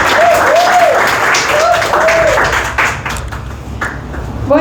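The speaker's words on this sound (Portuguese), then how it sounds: "mais uma vez, uma salva de palmas para a Antonella" Students in a Sunday class on the Ten Commandments give a round of applause, a close burst of many hands clapping that thins out toward the end, with a few brief tonal squeaks mixed in.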